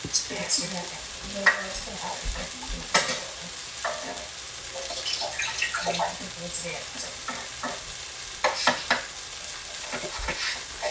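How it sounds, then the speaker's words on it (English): Onions frying for chicken biryani in a home kitchen pan, a steady soft sizzle broken by repeated scraping stir strokes, close and moderately loud throughout. "we're adding the onions in"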